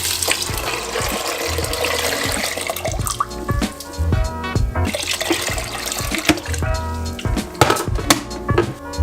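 Water poured into an Instant Pot pressure cooker holding dried beans for a stew, about 2.5 litres, a continuous close splashing and trickling with drips, loud and alone with no talk.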